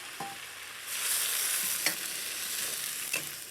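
Vegetable stock hitting a hot pan, giving a steady loud sizzle that swells after the first second and carries on throughout, with a few sharp clicks of utensil on pan.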